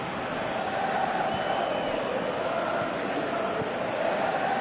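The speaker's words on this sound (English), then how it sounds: "you can hear how the crowd are reacting to this too" A football crowd in PES 2018 roars in a steady, dense wash of massed voices that holds at an even level for nearly five seconds, filling the stadium without a break.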